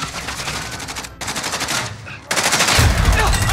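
Bursts of rapid automatic gunfire in the video game Modern Warfare Warzone, loud and continuous across three runs separated by brief gaps, with heavy low thuds building toward the end.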